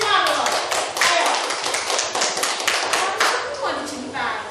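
A fifth-grade class claps for a pupil, many hands in quick, sharp, uneven claps close by, continuing steadily with some voices mixed in.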